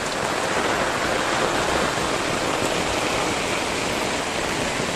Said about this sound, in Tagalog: Ayan, baha na naman.